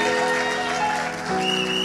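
A church congregation applauds steadily during worship praise, with a continuous wash of clapping and sustained musical tones underneath.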